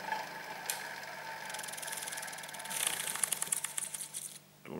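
An asynchronous electric motor runs at no load with a faint, steady hum and a light mechanical ticking that grows busier midway, then drops off briefly near the end; quiet and close, no talking.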